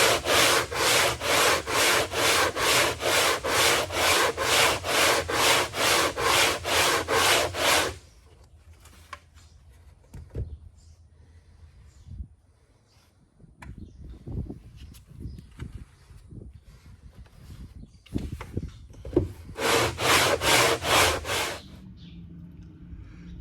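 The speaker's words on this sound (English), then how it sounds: "I put some chalk around here, around the sides, on the kerfing, and start sanding" Rhythmic back-and-forth sanding of chalked kerfing on the sides of a curly maple dreadnought guitar, loud regular strokes for about eight seconds, then quieter scattered handling taps, and a final burst of strokes near the end.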